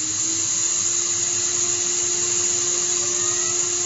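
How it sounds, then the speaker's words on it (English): A CNC spindle spins steadily while the head comes down to mill the copper surface of a PCB, giving a loud, unbroken high whine with a constant tone and no breaks or talk. "So spindle on and head down."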